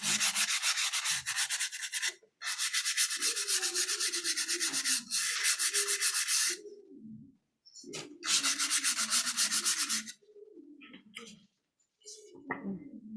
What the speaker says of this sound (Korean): 네, 사포질은 이 정도 됐다고